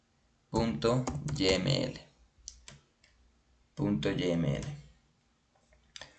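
Computer keyboard typing and an Enter key press during a docker-compose setup, faint clicks under someone speaking in two bursts, with a few isolated taps between.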